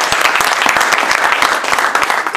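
A church congregation claps and applauds steadily in unison, a loud, dense crowd of hands beating a brisk, even rhythm.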